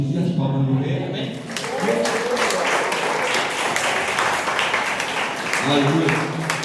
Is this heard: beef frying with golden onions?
no